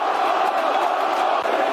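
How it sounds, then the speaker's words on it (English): Football crowd at a Millwall home match against Sheffield United baying and roaring for a red card, a dense, sustained mass of shouting voices filling the stadium. "Crowd baying for a red card."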